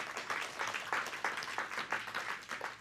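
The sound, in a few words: church congregation applauding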